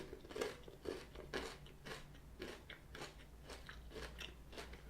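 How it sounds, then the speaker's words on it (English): Close, crisp crunching as Ritter Sport cornflakes chocolate is bitten and chewed, a series of quiet rhythmic crackles repeating about every half second. "But there's lots of lovely crunch there. It's really crunchy."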